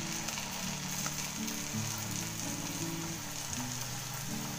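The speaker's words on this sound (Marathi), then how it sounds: "आता हे मेदू वड्याचे सोडते." Medu vada batter dropped into hot oil, a steady, soft bubbling sizzle of deep frying that holds evenly throughout, fairly quiet and close with no talking.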